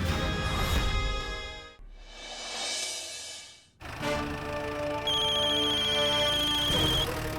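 A bright electronic phone ringtone plays loudly in repeating melodic phrases, pausing briefly before resuming, with no talk over it.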